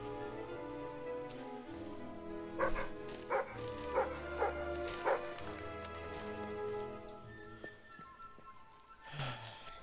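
A dog barks in the video game Fable 3, a short series of five or six evenly spaced barks over a steady musical ambient bed, then a final yip near the end.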